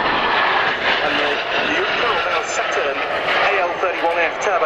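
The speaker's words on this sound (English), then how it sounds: "the 31F turbofan engines are certainly providing thunderous performance" Sukhoi Su-27 Flanker jet with AL-31F turbofan engines performing a flying display at an airshow, a loud continuous roaring rumble heard under steady commentary.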